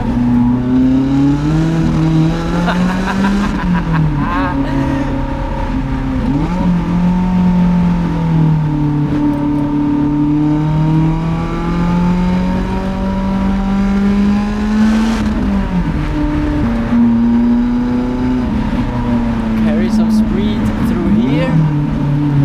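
A Lotus Exige or Elise sports car driving on an Alpine mountain road, its engine droning loudly and steadily from inside, pitch rising and dipping through revs and gear changes, with sustained close engine noise throughout.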